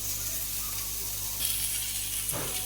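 Onion, tomato and garlic sautéing in a pan for fenugreek leaf thokku make a continuous, fairly soft sizzling hiss with a brief stir-like scrape near the end, and no one talking.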